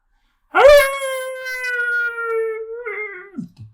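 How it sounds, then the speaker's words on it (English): A single long wolf howl rises sharply, holds a steady wavering tone for a couple of seconds, then falls away, loud and close as a tabletop game sound effect. "the piercing howl of wolves around you"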